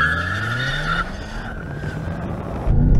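BMW M5s launch in a drag race: tires squeal in a high, falling screech over a roaring engine, then a burst of louder low rumble at the end, close by and with no talking.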